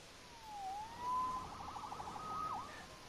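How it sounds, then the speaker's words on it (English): A police siren wails faintly in a Spider-Man video game, a few short rising and falling sweeps in a quiet city scene. "Saved by the siren."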